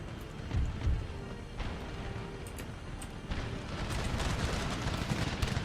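Musket volleys and battlefield gunfire in Empire: Total War with the Darthmod mod, a dense rumbling crackle of massed shots with a couple of heavier booms early on, then a sustained roar of battle.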